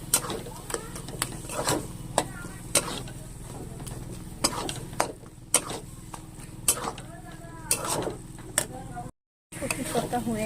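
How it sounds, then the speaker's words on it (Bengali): Taro greens with a hilsa fish head being stirred in a pan over high flame, with repeated spatula scrapes and taps against the pan over a soft sizzle, with a brief gap near the end. "এবার আমি এই জায়গা দিয়ে আমি ভালো করে নাড়িয়ে নেব"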